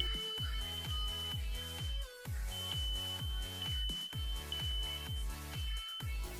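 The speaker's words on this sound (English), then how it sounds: "By pressing the button, the detector will go into alarm for a short period of time." A smoke detector's test button sets off a steady high-pitched alarm tone that holds through the whole stretch, partly buried under loud, rhythmic music with a heavy repeating beat.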